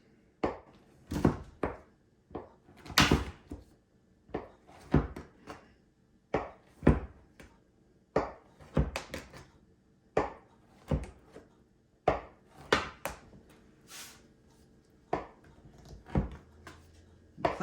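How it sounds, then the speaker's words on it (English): Sharp knife slicing rolled cinnamon roll dough into one-inch sections, a series of soft, irregular thuds of the blade meeting the board below, spaced a second or so apart and heard close with no talking. "With a sharp knife, cut these into about 1-inch sections."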